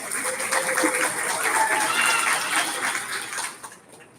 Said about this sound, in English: let's give Danica and Adam a big round of applause